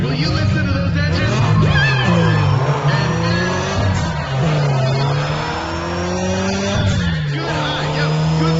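Loud race car engines roar and rev in Need for Speed: ProStreet, with tires squealing and skidding, a steady dense roar with rising and falling pitch sweeps throughout, no one speaking.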